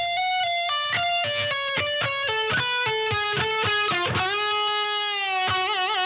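Slow electric guitar solo from a song, with distinct picked notes stepping down in sequence, then a long sustained bent note with vibrato ringing out clearly, played alone without accompaniment.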